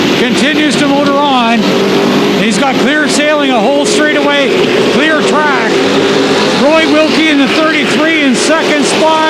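Super stock race cars lapping Flamboro Speedway, a short oval track, engines droning and whining as they pass, loud and continuous under excited commentary from someone talking.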